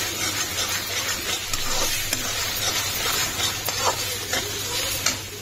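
Eggs frying in hot oil in a pan for egg bhurji give a steady, close sizzle, with scattered scrapes and clicks of a spatula stirring throughout.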